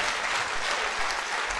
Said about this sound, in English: Everybody, clap for Jesus.